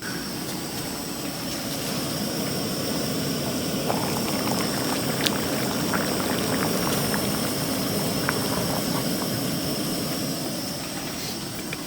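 Water boiling an egg in a pot with a glass lid on an Ozark Trail propane burner stove outdoors, a dense continuous roar of burner hiss and bubbling, steady and fairly loud with faint pops and no talking.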